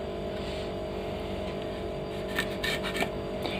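A knife rasps and scrapes through raw mango being cut up for pickle, a steady close grating with a few sharper scraping strokes near the end.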